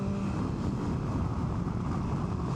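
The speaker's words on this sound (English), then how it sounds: "it's fucking good to be back on a motorbike" Riding a motorbike: a continuous, dense roar of engine and rushing wind that stays loud and steady throughout, with no talking.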